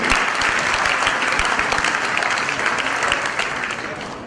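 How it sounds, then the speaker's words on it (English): A loud round of applause from the audience at a book release event, dense continuous clapping lasting a few seconds and gradually easing off. "a loud round of applause for all of you"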